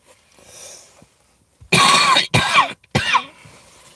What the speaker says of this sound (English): Sorry, guys, for all the coughing